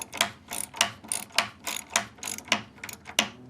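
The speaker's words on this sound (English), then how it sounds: "Now we're going to just tighten the coach screws off with a ratchet." A hand ratchet tightening coach screws into a macrocarpa timber raised garden bed, giving a steady run of sharp, evenly spaced clicks about three per second, close and loud with no talk.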